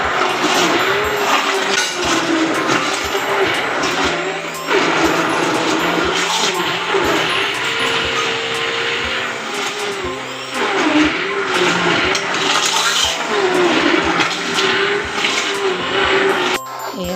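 An electric kitchen mixer grinds boiled vegetables for pav bhaji, its motor whining loudly in a few long bursts with brief pauses between, the pitch shifting as the load moves.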